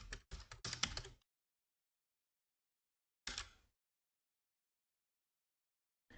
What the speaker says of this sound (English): And I type my user login. Then my password.